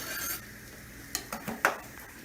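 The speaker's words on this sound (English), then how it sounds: "Nicely stir it around." A spoon stirring chopped bacon into quiche filling in a bowl gives a few faint scrapes and soft clinks against the dish, quiet and close with no talk.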